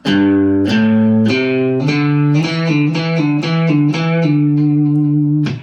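Distorted electric guitar plays a sequence of low, picked notes in a steady rhythm, loud and sustained, each note held without any pitch bending.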